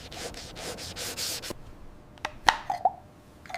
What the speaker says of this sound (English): Fine sandpaper smooths the beveled edge to perfect uniformity.